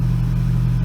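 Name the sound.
Toyota Tacoma engine idling on cold start with new injectors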